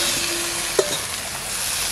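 Food sizzles steadily in a pan on a home stove, a brief continuous hiss with a single soft knock of the stirring utensil near the middle.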